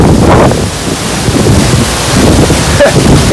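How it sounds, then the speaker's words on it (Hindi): Tiger Falls in Chakrata, Uttarakhand, pours down with great force, a loud, steady, close roar of splashing water mixed with wind buffeting the microphone. "इतने फोर्स के साथ पानी गिर रहा है ना।"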